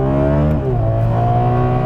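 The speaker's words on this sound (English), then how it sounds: "This 12-cylinder, oh my God, just the way it revs." A Ferrari 12Cilindri's 12-cylinder engine revs hard and close, a loud continuous climbing howl whose tone shifts mid-rev, with no talking over it.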